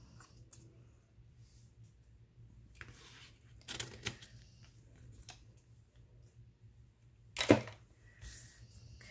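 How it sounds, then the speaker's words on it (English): Scissors mitering the corners of glued journal cover paper make a few quiet, sparse snips and clicks spread across an otherwise hushed stretch, with the sharpest cut near the end. "I'm going to take my scissors and miter the corners here."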